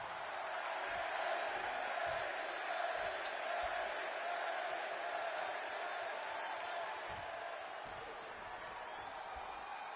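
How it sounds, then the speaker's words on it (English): A large arena crowd in Chicago from the wrestling video game WWE 2K26 roars and murmurs continuously throughout, a broad steady wash of noise with a few faint thumps underneath. "And just listen to this crowd here in Chicago."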